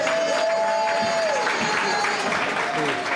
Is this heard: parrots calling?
no